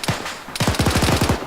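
Machine gun fire in a military squad training game, a short single shot followed by a rapid close burst of about ten sharp rounds.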